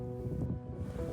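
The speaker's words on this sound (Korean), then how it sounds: "바람 소리 들리시죠?" Cold wind gusting by a riverside walking path near a hot spring inn at Harazuru Onsen, Fukuoka, a steady broadband buffeting rush close to the microphone with no voices.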